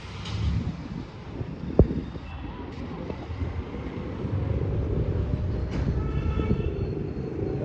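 Low, rumbling railway noise fills the Kolhapur railway station, with wind buffeting the microphone and a sharp click partway through.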